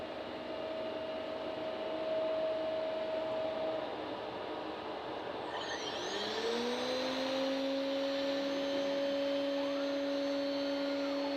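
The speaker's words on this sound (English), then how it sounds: "The machine is set to cut to a tool profile depth, however it's cutting about 1/8 of an inch deep for some reason" A CNC router mills an ash wood table blank, its spindle whining steadily over the dust-collection roar, then rising in pitch midway as the cut changes, heard close without talk.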